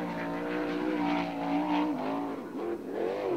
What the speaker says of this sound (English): Now in the speedway. In the 89G, the DVR Motorsports machine of David Gravel.